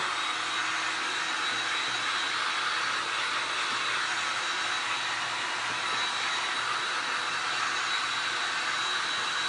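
A hair dryer blows steadily on a grapefruit-themed glass and resin art piece, giving a continuous broadband whoosh at close range that holds even for the whole stretch without pauses.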